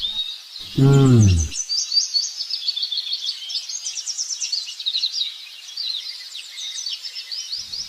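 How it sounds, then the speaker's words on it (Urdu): Cartoon sparrows chirp in a tree, a dense, busy chatter of high twittering calls lasting throughout, briefly interrupted near the start by a short low voice-like sound. "وہ درخت سے چڑیاں آواز کرتے ہیں، دیکھیے بہت چڑیاں ہیں"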